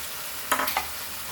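Crabs tossed with potatoes and green masala in a hot pan give a short burst of sizzling and a stirring scrape, close and fairly quiet over a steady background hiss.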